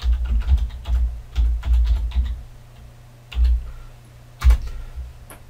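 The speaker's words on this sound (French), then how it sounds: "Et dans Internet, ici, on va taper salle digitale." Bursts of typing on a computer keyboard entering a website name into an internet browser, quick clustered clicks in several short runs separated by pauses, close and fairly loud with no talk.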